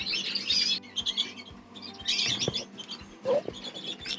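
Canaries on a show bench, including heavily variegated buff birds, chirp and tweet in bright bursts of song, close and fairly loud, with short quiet gaps between phrases.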